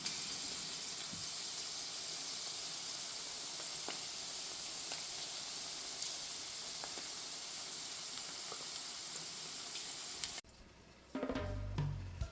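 Pork frying in a pan and releasing its oil gives a steady, soft sizzling hiss that runs continuously at low volume, then drops away near the end, followed by a brief clatter.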